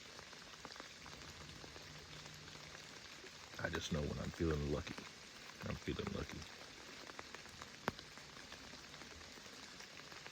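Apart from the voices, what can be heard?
rain falling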